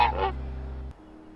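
A cartoon goose from The Simpsons: Tapped Out mobile game gives a single short, loud honk, then a low hum fades out.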